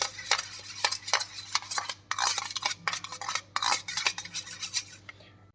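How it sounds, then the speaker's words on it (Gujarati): A spoon stirs thick plain yogurt in a bowl, making quick repeated scrapes and light clinks against the sides in an uneven, busy rhythm, close by with no talking. "તો આ મેં પાક અપ દહીં લીધું છે અને એને આપણે હલાવી અને એકરસ કરી દેવાનું છે"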